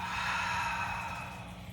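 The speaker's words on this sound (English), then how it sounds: "Allow yourself to just breathe here, inhaling through the nose, exhaling out the mouth." A slow yoga breath drawn in through the nose and let out through the mouth, a close, airy whoosh that swells and then fades away gently, heard alone.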